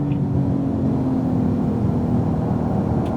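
A 2018 Porsche 911 Turbo S accelerates out of a corner on a race track, its engine a loud, close, steady roaring drone that holds throughout without voices.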